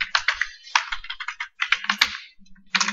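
Fast bursts of clicky keystrokes on a computer keyboard, close and crisp, typed in quick clusters with short pauses between them while an HTML title is entered.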